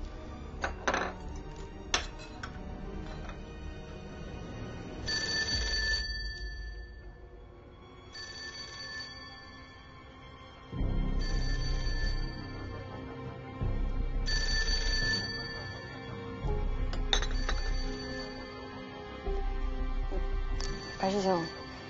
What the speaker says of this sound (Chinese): 电话一直响，你确定不接吗？